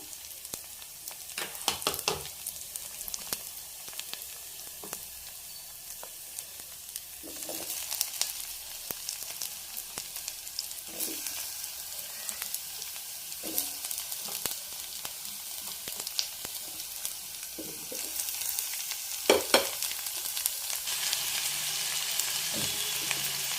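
Cucumber pieces fry with ginger and garlic in a pan for a masala curry, giving a steady close sizzle with occasional stirring clatters and a rising hiss near the end, with no talking.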